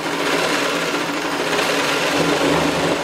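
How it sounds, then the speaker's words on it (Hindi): An electric sewing machine driven by a foot pedal runs at high speed, a loud, steady, rapid mechanical whirr and clatter of stitching that continues without pause, close to the microphone. "अगर आप इसको स्पीड में दबाएंगे तो स्टिचिंग भी हो रहा है स्पीड में"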